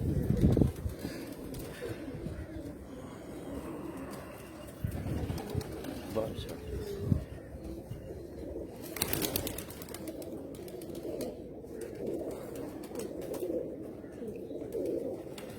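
Pigeons coo repeatedly in the background, soft and fairly distant, while people talk over them in a relaxed conversation.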